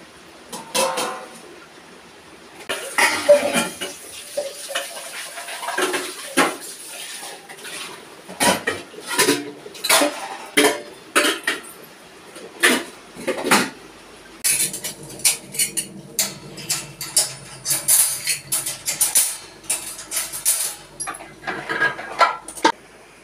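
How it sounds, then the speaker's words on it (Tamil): Pots, pans and utensils being scrubbed and rinsed in a kitchen sink, with repeated close metallic clanks and clatters in an irregular rhythm over running-water noise, no talk. "இப்போ எல்லா பாத்திரத்தையும் விளக்கிடலாம்."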